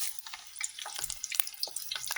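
Chopped onions hitting a hot pan and frying while Nigerian jollof rice is made, a soft crackling sizzle broken by scattered clatters and stirring sounds, with no voice.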